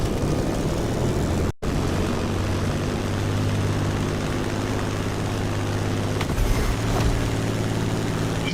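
A propeller airplane drones steadily in The Crew Motorfest, a loud, even engine hum with a brief cut near the start and a few faint clicks later.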